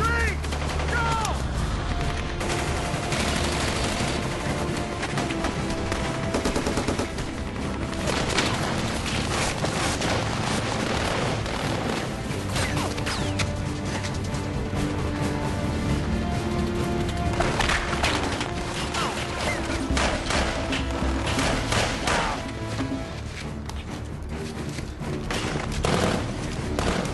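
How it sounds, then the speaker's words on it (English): Sustained battle gunfire from a Black Hawk Down film scene: dense bursts of rifle and machine-gun fire with booms, loud and continuous, with shouted voices mixed in. "we're gonna lay down some cover fire for him on 3."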